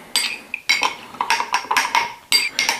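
Seasoned meat for an Italian pitina is mixed in a bowl, with a utensil clinking and scraping against the bowl in a series of short, sharp, close strikes and no talk.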